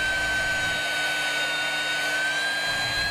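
A Hougen magnetic base drill cutting metal: a steady, high-pitched motor whine with a grinding edge drones continuously at close range, unchanging throughout, with no voices.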